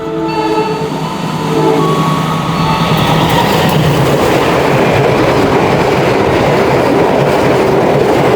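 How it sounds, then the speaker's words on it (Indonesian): Indonesian passenger train Senja Utama Yogyakarta, double-headed by two locomotives, overtakes loudly and close, its horn sounding at first before a steady roar of wheels and carriages rushing past continuously. "kita baru aja disusul oleh kereta api"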